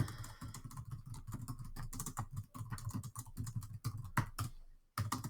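Close, quiet typing on a computer keyboard in quick, irregular bursts of key clicks, with a brief pause near the end before the tapping resumes.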